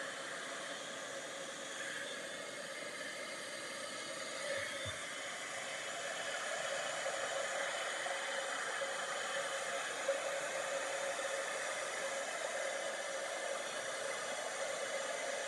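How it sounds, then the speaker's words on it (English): A heat gun melting embossing powder on a Halloween mini album craft blows with a loud, continuous airy hiss that grows slightly stronger partway through, with no talking. "I find that I haven't used my heat gun for a bit, so it takes a while to warm up."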